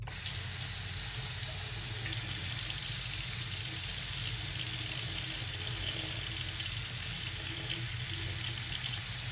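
Water gushes continuously from a sink tap, a steady close hiss of running water that starts abruptly and keeps flowing without pause.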